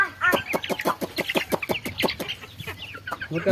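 Chickens cluck in a quick, steady series of sharp, fairly close calls on a farm where pigeons also feed together, with soft background noise between the clucks.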